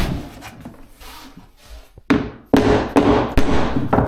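Four sharp hammer blows knocking wood flooring joints tight during a floor install in a holiday home build, spaced out and loud, after a quieter stretch of shuffling and handling.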